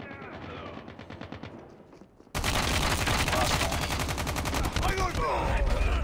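Rapid, loud automatic gunfire from the mobile shooter Call of Duty Mobile in Frontline mode, bursting in abruptly after a quieter stretch of game sound and continuing as dense sustained volleys to the end.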